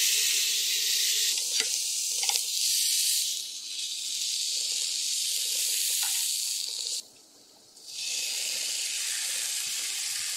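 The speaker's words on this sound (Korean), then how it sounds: "밥 볶을 거야 그냥" Rice frying in a pan gives off a steady, loud sizzle with light stirring, close up and continuous, with one short quieter dip partway through.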